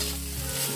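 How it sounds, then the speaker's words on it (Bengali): Soybeans fry in hot oil, a dense continuous sizzle with a steady close crackle throughout the short moment. "তেল দিয়ে সয়াবিনগুলিকে ভেজে নেওয়া হচ্ছে"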